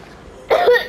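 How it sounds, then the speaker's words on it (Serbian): A cartoon character coughs in a LEGO Star Wars animated episode, two or three close, loud hacking bursts after a brief quiet lead-in. "Ko to kamo kašlje ovde?"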